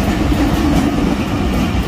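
A moving train clatters loudly and continuously on the rails, a dense close rumble heard from aboard with no voices.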